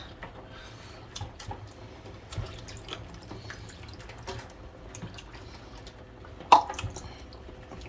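Water trickling and dripping into a container amid soft clinks and handling noises, one sharper splash near the end; close and fairly quiet, no talking.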